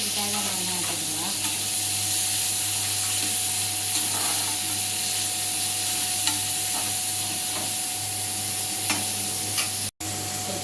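Onions frying in oil for chicken thokku, a continuous close hiss of sizzling with occasional soft stirring clicks throughout and a faint steady hum underneath.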